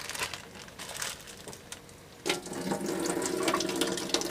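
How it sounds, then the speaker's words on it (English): Running water rinses frozen beet leaves inside a plastic bag, with a light crinkling of the bag, then a fuller stream of water splashing and swishing steadily; no voices. "Just want to give it a quick little rinse."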